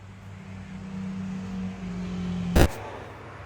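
A turbocharged Dodge Daytona race car pulls out of a garage: a steady low engine drone holds throughout, broken near the end by one brief, loud burst.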